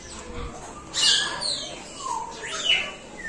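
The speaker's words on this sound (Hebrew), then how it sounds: "אלה תוכים מזמרים" Singing parrots chirping at a zoo, a few close bursts of squawky, whistling calls rising and falling over faint background murmur.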